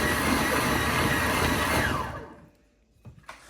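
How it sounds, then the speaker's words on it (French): An electric blender whirs loudly and steadily as it mixes pancake batter in a home kitchen, running for about two seconds before spinning down into quiet, followed by a couple of small knocks. "Je vais faire ma pâte à pancake au mixeur"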